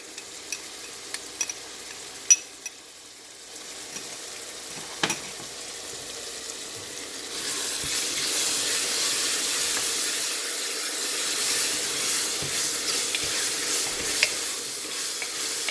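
Onion paste and ginger paste sizzle and hiss steadily in hot oil for crab biryani, with light stirring scrapes early on and the frying growing louder and denser partway through, no talk.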